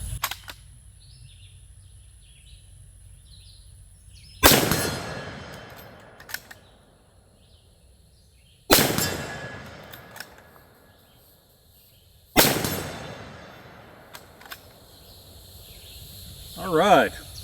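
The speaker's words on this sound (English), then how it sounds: "let's shoot this 450 Bushmaster a couple more times" Three loud, sharp gunshots from a 450 Bushmaster rifle ring out outdoors about four seconds apart, each with a decaying echo, against quiet ambient insect noise.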